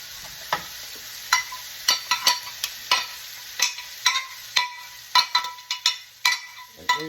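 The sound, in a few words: onions frying in butter for smothered shrimp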